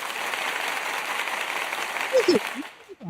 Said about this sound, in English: let me do my little applause thing for Rumble